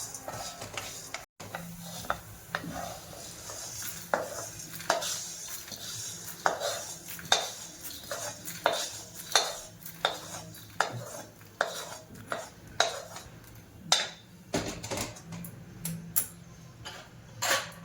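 Whole spices being dry-roasted in a pan for a Maharashtrian masala, with repeated scraping and clinking of a spoon against the metal pan in an uneven stirring rhythm, soft and close, without talk.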